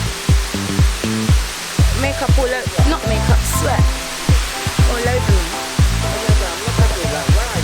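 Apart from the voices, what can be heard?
Chenku Waterfalls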